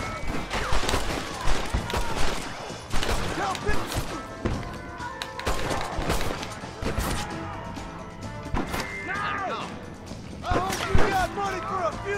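Rapid pistol gunshots in Red Dead Redemption crack one after another in uneven bursts, loud and close, layered with game clatter, impacts and a few shouted voices.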